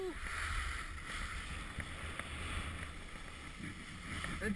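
Skis running over natural snow on a black run near the summit of Montgenèvre, a steady close hiss and scrape with wind rushing past the microphone throughout, carrying on without a break.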